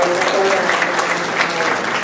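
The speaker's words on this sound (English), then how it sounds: "Let's give them a round of applause again" Audience applause at an evening school district council forum, a dense steady wash of many hands clapping throughout, moderately loud and continuous, with faint voices mixed in.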